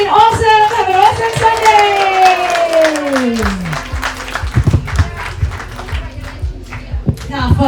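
Audience applause at a live comedy panel show on the Gold Coast, with a voice speaking over the start, then scattered clapping that carries on to the end.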